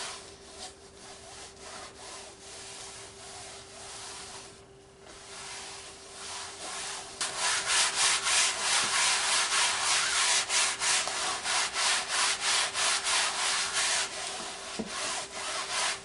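A damp cloth wiped over an acrylic-poured canvas to clear powder residue, giving steady rhythmic rubbing strokes that grow louder and faster partway through, close and alone.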